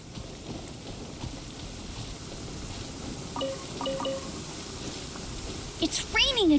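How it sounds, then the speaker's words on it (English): Steady patter of rain in the video game Genshin Impact, with a low rumble, joined by a few synthetic tones and a rising electronic sweep near the end. "It's raining again."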